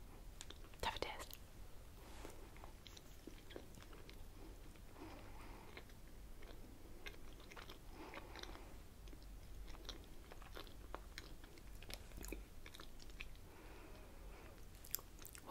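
Close, soft chewing and crunchy bites into a snack with a white filling, repeated irregularly throughout, mixed with whispering.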